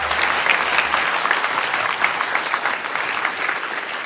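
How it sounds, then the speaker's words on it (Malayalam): Sustained audience applause at a stage performance, dense steady clapping from a full crowd that holds at an even level throughout, with no talk over it. "നിറഞ്ഞ കയ്യടികളോടെ വരവേറ്റു സദസ്സ്"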